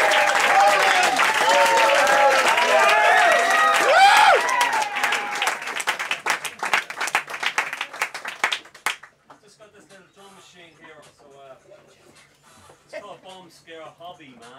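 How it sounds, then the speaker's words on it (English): An audience gives a performer a big round of applause with loud cheering and voices, then the clapping thins and fades to scattered claps and quiet chatter. "I'll give you a massive round of applause"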